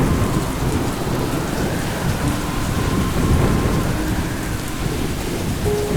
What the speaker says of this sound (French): Il va pleuvoir très fort.